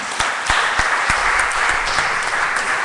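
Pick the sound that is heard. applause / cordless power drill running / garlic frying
applause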